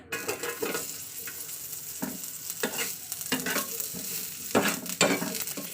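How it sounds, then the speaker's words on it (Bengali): Chopped onion fries in mustard oil in a wok, a steady sizzle broken by repeated stirring scrapes and spatula strokes at irregular intervals, close and moderately loud. "তেলে আমি পেঁয়াজটাকে লাল লাল করে ভেজে নেবো"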